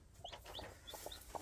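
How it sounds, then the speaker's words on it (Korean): High, thin peeping from newly hatched chicks, several short chirps scattered across the clip, fairly close, with a few louder cheeps near the end. "삐약삐약 되는 소리"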